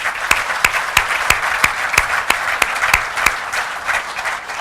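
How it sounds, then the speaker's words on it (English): Audience at a mining industry release event applauds in a dense, steady wash, with several louder individual claps popping out at a fairly regular pace close by. "Let's give them a big round of applause for these individuals."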